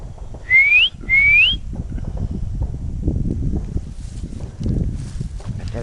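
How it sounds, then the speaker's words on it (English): Unidentified animal whistling from a tree outdoors, two short rising whistles in quick succession, clear and fairly close, followed by wind, rustling and footsteps. "he started whistling again"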